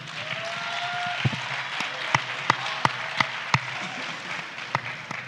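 Audience at a presidential town hall applauding steadily throughout, a dense wash of clapping with a few sharper individual claps standing out near the microphone.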